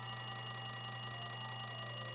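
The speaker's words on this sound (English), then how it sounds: "Looks like that phone is ringing." A phone rings in the Danganronpa 2 video game, a continuous electronic trill blended with steady background game music, sustained and even for the whole stretch with nobody speaking.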